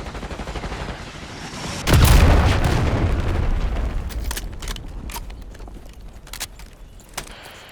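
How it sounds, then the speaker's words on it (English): A concussion grenade explodes in Call of Duty Black Ops 6 with a deep, loud boom that rings out and decays slowly, followed by scattered sharp clicks and distant gunfire. "Concussion grenade sighted."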